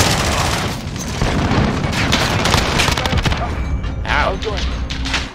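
Sustained automatic gunfire in a Call of Duty: Modern Warfare Ground War match, loud rapid bursts of rifle shots with booms, under talking voices.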